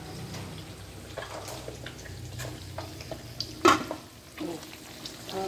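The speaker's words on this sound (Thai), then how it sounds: "ทอดเต้าหู้ไข่นะคะเดือดมาก" Egg tofu fries in very hot, bubbling oil, giving a continuous close crackle with scattered pops and one louder spatter burst midway.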